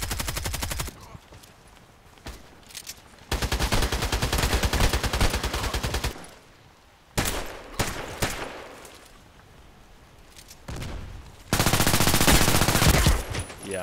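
Bursts of rapid submachine gun fire in the first-person shooter Contract Wars, several long sustained volleys separated by quieter gaps with scattered single shots.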